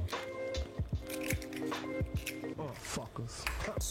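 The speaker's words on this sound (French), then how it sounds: "On va prendre les œufs, donc on les casse un par un et on mélange à chaque fois entre." An egg cracked into chocolate and walnut brownie batter, then stirred in: close, wet squishing and sticky slaps repeating every half second or so over a steady tonal background.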